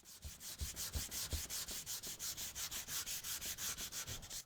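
Steady back-and-forth hand sanding on a guitar's wipe-on finish, a close, rhythmic rasp of about twenty even strokes with no talking.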